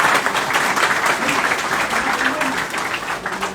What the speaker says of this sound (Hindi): तालियां बजाओ अगर अपने लिए।